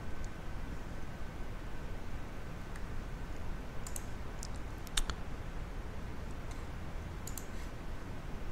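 Several faint, sharp mouse clicks on a computer, scattered singly and in quick pairs over a low steady background hiss.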